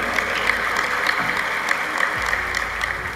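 A large audience at a religious gathering claps in sustained applause, a dense, steady patter of many hands that holds evenly throughout without voices rising above it.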